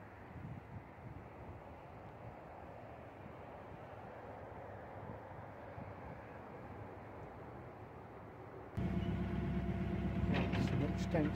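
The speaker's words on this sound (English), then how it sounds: "Shame about the traffic noise." Steady broadband road traffic rumble carries from nearby roads across a canal lock area, continuous and moderately distant, with a louder, busier surge of engine noise near the end.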